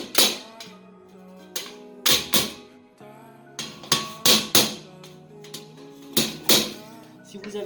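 Sharp knocks of a small rubber-topped hammer tapping a shelf into place for aquarium racks, a dozen or so close, loud strikes in irregular clusters, with a voice talking between some of them.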